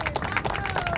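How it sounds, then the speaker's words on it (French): Spectators in the stands applaud a para-equestrian athlete, a dense, steady burst of many hands clapping from a crowd in a large arena. "Le gradin B, vos applaudissements pour Anne-Frédérique Royon"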